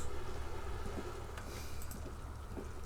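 Steady rain in the video game Disco Elysium, a dense continuous wash of falling drops with low rumbling ambience beneath, soft and unbroken throughout with no voices.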